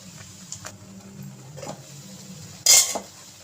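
A spoon stirs potato fry in a pan as garam masala goes in, producing a few soft scrapes and clinks against the metal over a faint sizzle, ending in one sharp louder clank.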